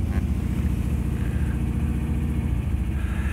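A 1970s-style MG B GT with a V8 engine idles just after starting, a steady low burbling engine rumble that stays even and close throughout, with no talking.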